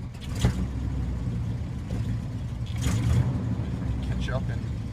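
A 1982 GMC C20 pickup engine runs steadily in cold weather, a low continuous mid-range rumble with slight swells in revving, close by, while someone talks over it.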